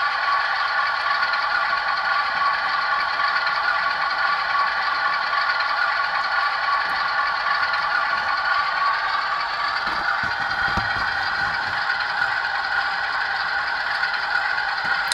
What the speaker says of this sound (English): a rattling sound. It's something with my engine